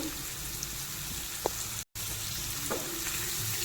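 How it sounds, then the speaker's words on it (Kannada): Dill leaves fry in a hot pan with a steady, close sizzle throughout, broken by a brief dropout midway and a couple of soft stirring knocks. "ಸಬ್ಸಿಗೆ ಸೊಪ್ಪನ್ನ ಚೆನ್ನಾಗಿ ಫ್ರೈ ಮಾಡ್ಕೋಬೇಕಾಗುತ್ತೆ"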